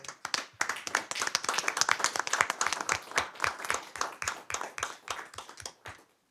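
Applause breaks out at a public community college district board meeting, with a steady run of individual claps from a modest group lasting several seconds before fading out.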